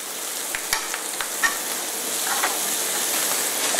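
Ingredients melting quickly in a hot pan in a restaurant kitchen, a continuous close sizzle with scattered small crackles and utensil taps.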